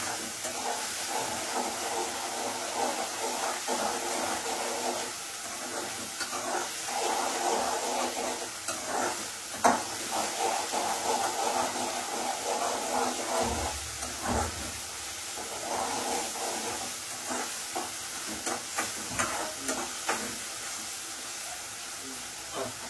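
Tomatoes sautéing in a pan give a steady, close frying hiss and sizzle that lasts throughout, broken by occasional stirring clatter and scraping. Faint speech is heard only briefly.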